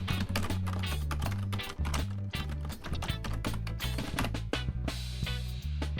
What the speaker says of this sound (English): Type in your email.